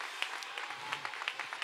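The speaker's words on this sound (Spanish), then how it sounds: "Un fuerte aplauso también para ellos." Scattered audience applause during a carnival proclamation in Badajoz, faint and distant with a few sharper claps standing out.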